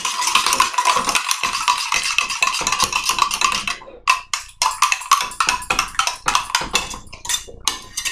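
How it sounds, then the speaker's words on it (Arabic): A spoon stirs coffee in a pot on the stove, producing quick, repeated scraping and light clinks at close range, steady at first and then breaking into sharper, separated strokes. "هنحط على النار وهنبدأ نقلب لمدة دقيقتين."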